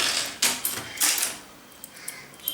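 Typewriter keys strike in an uneven run during a typing exercise, several sharp clacks close up followed by lighter, sparser taps.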